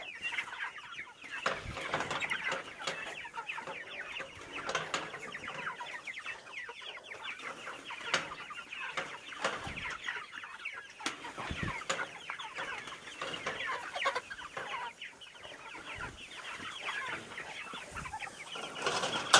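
Chickens cluck continuously in a busy farm flock, with overlapping close and distant calls and occasional sharper squawks, no talking.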